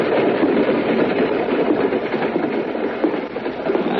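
A passenger train rumbles along its rails as a radio drama sound effect, a loud, continuous roar with a steady rolling clatter and no voices over it.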